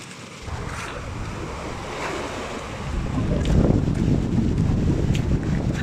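Strong sea waves surge against an island shore, a continuous heavy wash of surf that builds louder midway, mixed with gusting wind buffeting the microphone.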